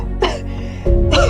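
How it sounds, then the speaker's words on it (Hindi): Two short, harsh coughs close to the listener, separated by a brief pause; they have a voiced, slightly throaty quality. "खांसी हो रही है मम्मा"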